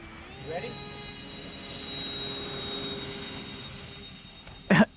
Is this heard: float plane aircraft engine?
yes